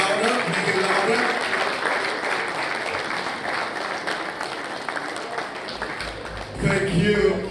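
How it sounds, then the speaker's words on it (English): Dense applause from a crowd at a client engagement event, steady and loud throughout, swelling briefly near the end. "Please make the applause louder. Make it louder."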